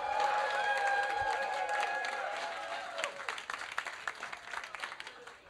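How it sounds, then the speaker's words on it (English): Audience applause at an awards ceremony, steady and full at first with tonal ringing underneath, then thinning into scattered, sparser claps toward the end. "Give us a thunderous round of applause."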